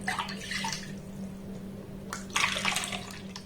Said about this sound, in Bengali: এখানে দেখুন আমি মোট ছ কাপ জল দিয়ে দিলাম